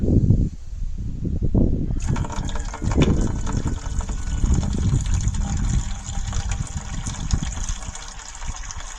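A toilet flushing in a hall bathroom during a flow test at a house, with a sudden loud rush of water that starts after a quieter moment and keeps gushing and churning steadily, close and alone.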